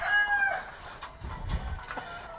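A small young rooster of a backyard breed crows once near the mic, a bright rising call at the start, followed by softer farmyard rustling and low scuffling.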